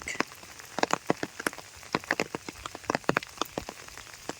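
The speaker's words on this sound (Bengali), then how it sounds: "তারপরে থেকে তো বৃষ্টি আর বৃষ্টি, বৃষ্টি দিয়েই পুকুরটা অনেকখানি ভরে গেছে।" Rain falling in a village, with scattered drops tapping sharply and irregularly on a nearby surface over a soft, steady hiss, fairly quiet and with no voices.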